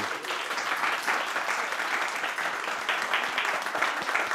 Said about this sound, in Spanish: vamos a darle un fuerte aplauso a nuestra ponente, a Seomi.